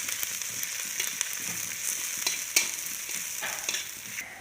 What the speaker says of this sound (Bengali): লাল লাল করে ভেজে নিলাম